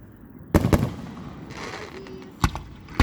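Fireworks bursting at a June 27, 2019 display: two sharp loud bangs close together, a softer crackling stretch, then two more single booms near the end, fairly close with no talk.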